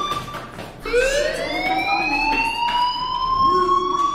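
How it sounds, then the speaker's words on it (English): A fire alarm wails in the video game Life is Strange, a loud close rising electronic siren tone that sweeps upward and holds, with no talk over it. "Hey, do you hear that fire alarm?"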